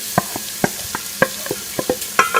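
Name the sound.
onions frying in melted ghee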